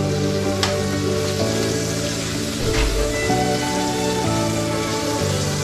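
Steady, loud sizzling of rib eye steaks frying in oil in a hot pan, a dense continuous crackle with a few brief clinks of utensils.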